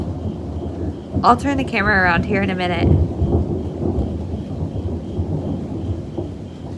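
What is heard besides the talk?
loud rolling thunder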